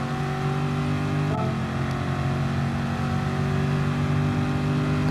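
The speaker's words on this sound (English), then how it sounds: "Grab third to allow the engine brake, and then quickly upshift to fourth to refrain from the wheel spin." Race car engine in Gran Turismo Sport at Monza, a steady loud mid-pitched drone with a brief dip around a gear change partway through, then holding a sustained tone.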